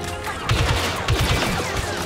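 Blaster gunfire in Star Wars Battlefront 2, quick bursts of several rapid shots in two or three clusters over a busy combat background.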